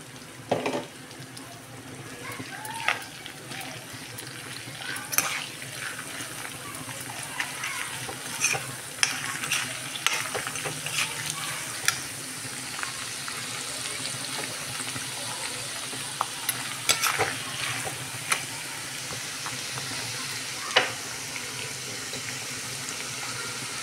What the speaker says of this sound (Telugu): ఇవి అల్లం వెల్లుల్లి వేస్తున్నానండి